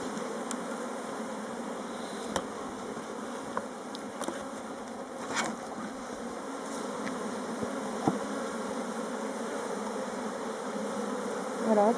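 A honeybee swarm being moved into a hive fills the clip with a steady, dense buzzing drone, with a few close clicks and bumps over it and no voices.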